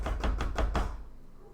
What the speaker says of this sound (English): guess I'll knock on the door.